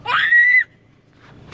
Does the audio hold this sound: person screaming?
yes